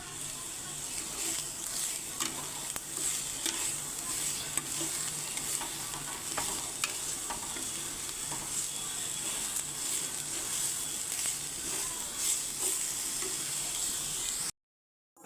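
Watermelon rind frying in melted sugar in a pan gives a steady, close sizzle, with repeated scraping and clacking as it is stirred. It runs continuously for about fourteen seconds, then stops abruptly into silence.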